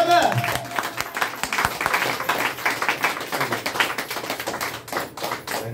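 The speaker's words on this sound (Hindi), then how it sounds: "जोरदार ताली होना चाहिए इनके लिए" An audience at a motivational meeting in an office breaks into loud sustained clapping, a dense continuous applause that carries on without pause, with voices mixed underneath.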